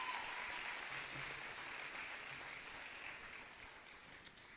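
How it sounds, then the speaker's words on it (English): Steady, distant applause from a high school graduation audience fills the room in an even wash of clapping from start to finish, with one sharp knock near the end. "I hope you'll give yourselves another round of applause because you deserve it."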